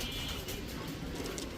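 Giribaz pigeons coo softly at close range, with low murmuring calls over a busy background and faint indistinct voices nearby.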